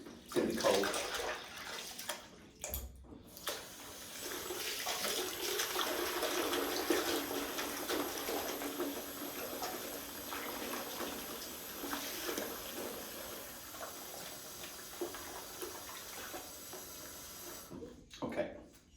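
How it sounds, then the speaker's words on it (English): Cold water runs steadily from a tap into a sink for wool washing with a little Eucalan, a continuous broadband rush that holds for most of the stretch, with brief pauses near the start and end. "And then we are going to run the sink"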